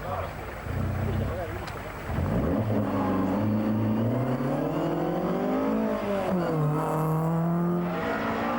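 A Ford Escort rally car reverses out of a field onto a gravel surface, its engine droning steadily and then revving with rising and falling pitch, close by, with wind buffeting the microphone.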